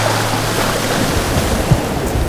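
Small sea waves washing along the Côte-Nord shore of Québec, a steady broadband rush of surf and water with no voices, fairly loud and continuous.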